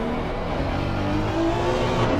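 A Honda race car on the Misano circuit in a racing video game, its engine note dropping as it brakes hard into a corner, a steady loud drone close by with no talk over it.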